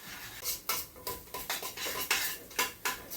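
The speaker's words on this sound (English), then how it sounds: "you want to saute this just until that tomato paste begins to caramelize" Metal spoon scraping and clanking against a pan while tomato paste is sautéed and stirred, about eight sharp rhythmic scrapes at a steady pace, close and fairly quiet, with no voices.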